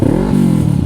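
A KTM Super Duke motorcycle engine revs briefly up close, a loud throaty burst with a quick change in pitch.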